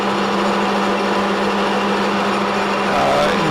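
A lathe runs steadily at a raised spindle speed and feed, its hum and whine close and continuous with a slight rise in pitch near the end.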